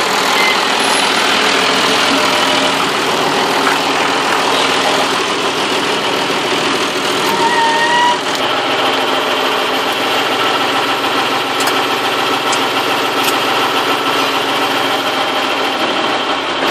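An International Harvester 1255 XL tractor engine running near the microphone, a loud steady diesel drone with continuous mechanical clatter and a few faint higher tones, no talking.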